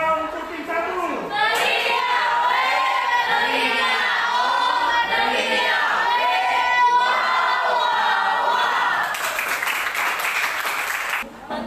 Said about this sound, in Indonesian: Berikan tepuk wow untuk tim 1.